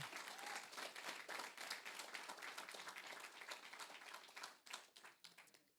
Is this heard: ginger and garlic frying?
no